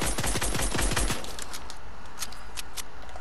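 Rapid video game gunfire rattles out in a quick burst of closely spaced shots, loud and near, then cuts off and leaves a fading, noisy tail.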